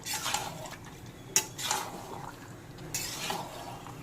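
Chicken and lightly fried potatoes are stirred in a cooking pot with a metal spoon, giving scraping swishes and a sharp clank against the pot, over a faint sizzle.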